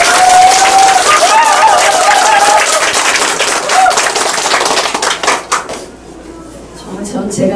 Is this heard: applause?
yes